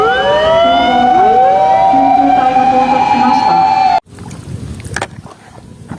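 A toy fire truck's electronic siren wails loud and close with rising, sweeping tones, then cuts off abruptly after about four seconds, leaving soft handling noise.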